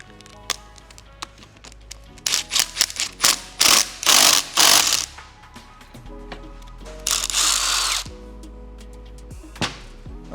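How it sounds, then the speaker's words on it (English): Flywheel puller being screwed into a CSC SG250 cafe racer motorcycle engine to pull the flywheel off, heard as close, loud bursts of rapid mechanical ratcheting and tool chatter separated by brief quiet gaps. "And we just screw it in and it'll force that off."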